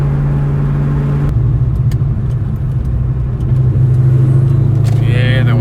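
A Sonic Blue Ford Mustang Cobra accelerates down a street, its loud engine rumbling steadily and climbing in pitch, heard from inside the car, with a brief voice near the end.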